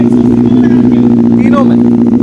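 A 2019 Benelli 600i motorcycle idles with a loud, steady low engine drone, and a faint voice or high squeaks briefly rise over it.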